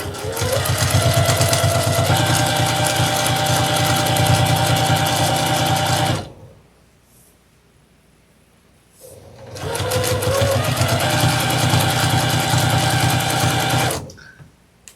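A sewing machine stitches a reversible Halloween table runner sewn from fat quarters, whirring loudly and steadily in two long bursts with a short quiet pause between them.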